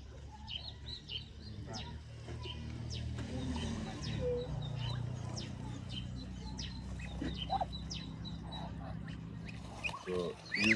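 Ducks being fed in an African village quack and chatter in repeated bursts, close and lively, while people talk in the background throughout.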